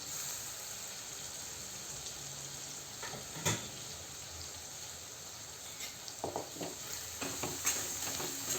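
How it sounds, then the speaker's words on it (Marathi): Carrot and tomato pieces sauté in a pan with masala and onion for a village-style dal and eggplant dish, giving a steady low sizzle with occasional stirring scrapes and clinks near the end, no talk. "हे आपण परतून घेऊया"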